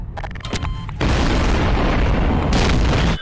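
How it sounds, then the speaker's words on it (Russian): Bomb blast in the Garry's Mod video game, a sustained loud roaring rumble that starts abruptly after a short crackle and holds for about two seconds before cutting off. "давайте нормальную бомбу взорвут"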